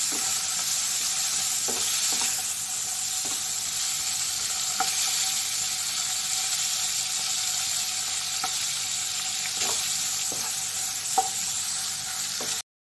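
Paneer cubes frying in butter in a pan, a steady soft sizzle running throughout with occasional faint clinks of stirring, no talking.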